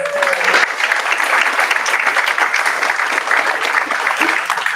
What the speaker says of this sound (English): go ahead and give yourselves a round of applause for coming out on a Wednesday